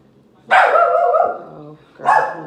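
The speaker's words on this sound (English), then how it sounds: "Hush, dog." A dog barks loudly and close by, one long harmonic bark followed by a shorter second one after a brief pause, with no other sound.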